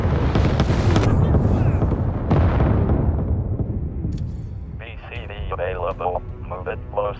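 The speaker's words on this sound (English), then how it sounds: "Artillery fire in." Incoming artillery in a military video game lands in heavy, rumbling booming blasts over the first few seconds, then fades as crackly radio chatter takes over.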